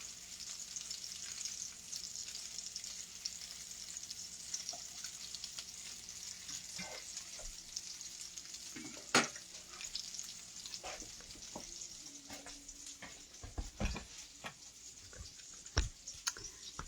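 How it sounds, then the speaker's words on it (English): Chicken pieces browning in a hot skillet for a special chicken roll, a quiet continuous frying hiss broken by scattered pops, taps and utensil clicks. "it don't take but a minute for them to brown in a hot skillet"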